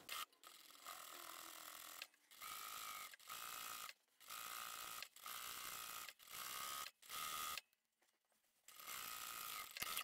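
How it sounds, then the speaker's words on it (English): Sewing machine running in bursts as it top stitches along a folded fabric edge with a size 90/14 needle at 3.5 stitch length, steady mechanical whirring broken by brief pauses and a longer stop near the end. "going to top stitch all the way along that folded edge. Let's quickly go and do that now."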